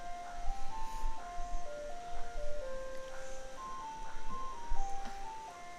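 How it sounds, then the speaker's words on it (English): Ice cream truck chime playing its jingly melody outside a house, moderately loud from the street with a faint motor rumble beneath, no talking. "that's the ice cream man."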